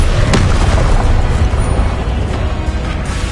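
Spell-cast explosion in the video game Hogwarts Legacy, a sharp booming blast at the start followed by rumbling noise that slowly fades.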